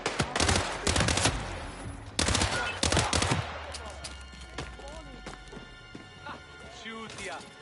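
Rapid bursts of gunfire from the Hitman VR game on PSVR, loud and dense over the first few seconds, then thinning into sparser shots as excited voices shout over the action.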